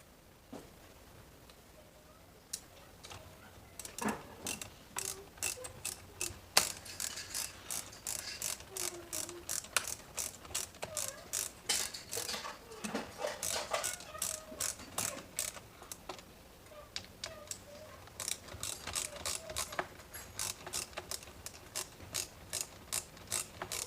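A 7mm socket ratchet clicks in quick, repeated bursts while fastening carburetor studs on a Husqvarna 136 chainsaw, the pawl's sharp ticks close and fairly loud, with short pauses between runs of strokes.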